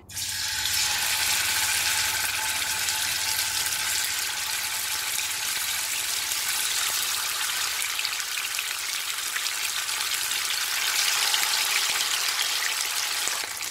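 King fish frying in a small amount of oil, a steady dense sizzle with crackling pops that holds loud and even throughout, with no talking.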